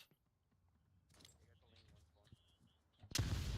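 Flashbang grenade detonating in the VR shooter Onward during a tournament match, a sudden loud broadband bang that cuts in at the end after quieter game sounds and a commentator's voice.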